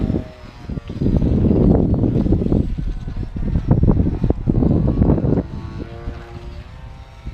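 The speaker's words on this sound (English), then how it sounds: "This motor sounds really bad." An FT Scout RC plane motor with a 9x6 propeller runs outdoors, its buzzing drone surging and fading in uneven pulses with wind rumble, fairly close and loud.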